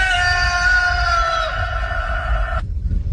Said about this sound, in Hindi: सुबह मुर्गे की बांग हुई